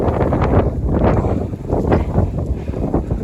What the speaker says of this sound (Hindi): और हवा अच्छी चल रही है